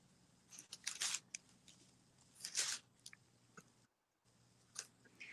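Scissors snip through yarn while trimming a pom-pom flower for a blooming cactus craft, with a few close, crisp clusters of cuts separated by quiet pauses over a faint room hum.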